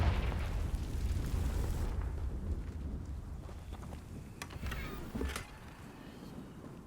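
A Confringo blasting spell explodes in Hogwarts Legacy, a loud rumbling boom with a long roar that fades, followed by a couple of sharper cracks near the end.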